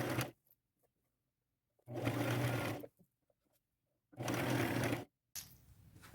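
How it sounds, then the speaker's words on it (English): A sewing machine runs a zigzag stitch through fabric for a boho ruffled duster, in three bursts of steady whirring of about one second each, separated by quiet pauses. "I'm using a zigzag stitch again"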